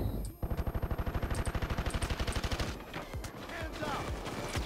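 Rapid automatic gunfire in PAYDAY 2, a steady burst of evenly spaced shots for over two seconds, then scattered shooting and game noise with a voice talking underneath.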